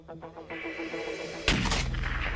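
A Barrett .416 rifle fires one loud, sharp shot at a target range, the blast bursting in suddenly and rolling on with a booming tail after a stretch of low rumble.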